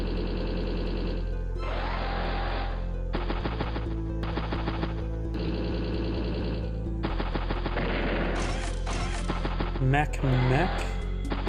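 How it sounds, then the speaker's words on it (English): Rapid machine gun bursts from the video game Advance Wars: Days of Ruin, loud staccato rattles in several separate volleys with short gaps, mixed with in-game effects and a crashing impact near the end. "Put some machine gun rounds there."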